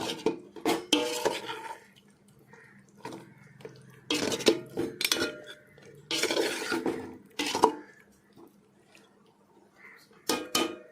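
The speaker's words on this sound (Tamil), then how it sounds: "நம்ம குக்கரில் நல்லா வேக வச்சுருந்த அந்த மட்டனை வந்து அப்படியே நம்ம உள்ளார போட்டுடலாம் அந்த ஆஃப் கேஜியும் உள்ளார போட்டு நல்லா மசாலாவோட விரட்டி விடலாம்" Pressure-cooked mutton is stirred into masala in a pot for biryani, the spoon banging and scraping against the metal in irregular bursts with quiet gaps between, close and without talk.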